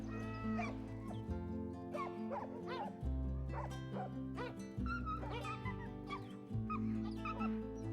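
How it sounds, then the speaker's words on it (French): A Cursinu hunting dog bays repeatedly and loudly on the trail of a wild boar, with several overlapping barks and yips in quick succession out in the open near goats. "lorsque les chiens ont repris la piste réelle du sanglier, eh bien, ils augmentent encore de voix"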